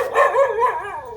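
A dog in a Bohol village gives a couple of quick, close barks, loud and sharp with yelping tones, and no other sound around them.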